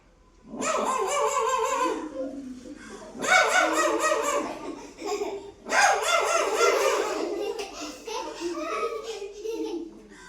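A voice imitates a dog, giving three loud drawn-out barking yelps followed by shorter yips, close and clear.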